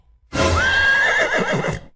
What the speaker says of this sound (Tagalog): Oh, kabayo.